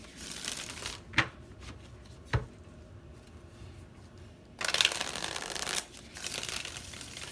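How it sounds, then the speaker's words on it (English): Tarot cards are shuffled by hand, with soft scattered taps and two sharp clicks, then a dense riffling burst lasting about a second before quieter card handling resumes. "One more shuffle."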